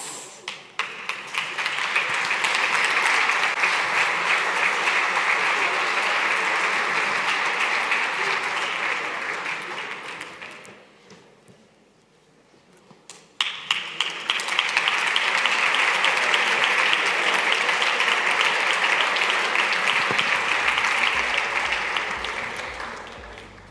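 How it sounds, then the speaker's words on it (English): A conference main-stage crowd claps in two long, loud waves of applause separated by a brief lull in which the clapping dies away before surging again. "And you can clap again."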